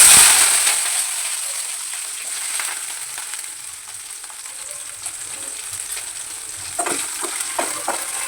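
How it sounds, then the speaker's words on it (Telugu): Onions frying in oil in a pan with a cinnamon stick and a little shahi jeera give a steady, close hiss and sizzle. A few scraping stir taps come near the end. "ఆనియన్స్ గోల్డెన్ బ్రౌన్ కలర్ వచ్చేదాకా వేసుకున్నామండి."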